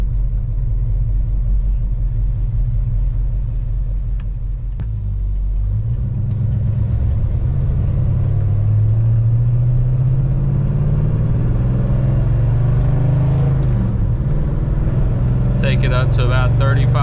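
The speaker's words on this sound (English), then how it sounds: "smooth car, runs and sounds great." A 1968 Pontiac GTO engine idles with a deep, steady rumble, then rises in pitch as it is revved up, loud and close throughout for about seventeen seconds.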